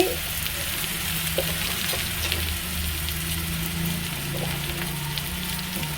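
Onion frying in a pan gives a steady, close sizzle for several seconds, with light stirring clicks and a low background hum underneath and no voices.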